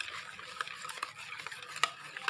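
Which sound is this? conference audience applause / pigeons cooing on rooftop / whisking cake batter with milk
whisking cake batter with milk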